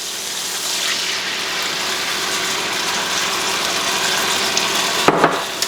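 Water poured into a hot pan with noodles, a steady loud gushing and sizzling rush that fills the whole stretch, with a few sharp clinks near the end.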